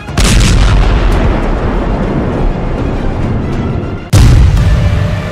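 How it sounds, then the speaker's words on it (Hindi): Heavy artillery fire and bomb blasts in the Israel-Hezbollah war, one deep boom followed by a long rumbling decay, then a second loud sharp blast near the end, no voices. "जब हिजबुल्लाह के ठिकानों पर इजराइल का बम गिरता है तो धमाका बड़ा होता है"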